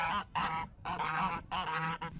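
Geese on a farm give a short run of loud, nasal honks, four or five close calls in quick succession with brief gaps between them.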